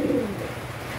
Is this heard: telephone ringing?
no